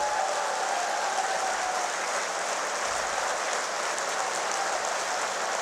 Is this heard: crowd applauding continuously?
yes